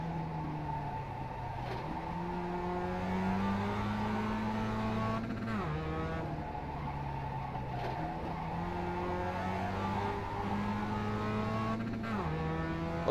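Mazda MX-5 race car in the iRacing game at Okayama, its engine droning steadily with rising pitch through the gears and brief dips at shifts and braking, loud and continuous with no talk over it.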